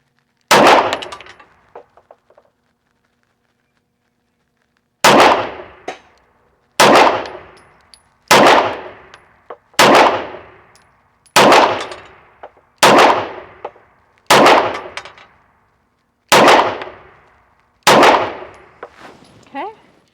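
A Bul SAS II TAC pistol fitted with a red dot fires one shot, then after a pause nine more sharp, loud shots in a steady rhythm, each followed by a short ringing echo outdoors.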